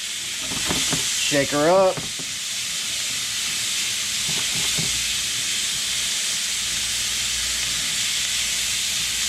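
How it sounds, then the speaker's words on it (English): Freshly caught catfish cooking in a hot pan, sending off a loud, continuous steamy hiss and sizzle, with someone briefly speaking over it early on. "Look at all that moisture steaming off the catfish."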